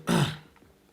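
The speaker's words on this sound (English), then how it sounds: "if you're wondering why I'm clearing my throat so much" A single short throat clearing, close and fairly loud, that trails off quickly.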